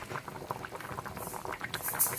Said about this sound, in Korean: 감자 시래기탕이 보글보글보글보글 잘 끓네요